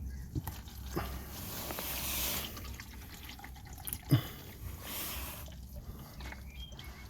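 Engine oil drains from a BMW 530d E60, a faint trickle and drip with one louder splash partway through.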